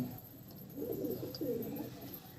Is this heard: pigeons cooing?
yes